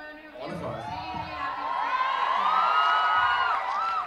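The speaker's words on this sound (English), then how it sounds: "Please give them a huge round of applause." Audience at a Bollywood song launch event cheering and whooping, a sustained crowd roar with high shouts rising toward the end, with some voices mixed in.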